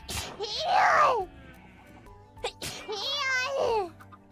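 Two high-pitched, voiced sneezes from a woman, each a sharp burst swelling into a squeaky, sung-out cry, separated by a brief pause with a small click.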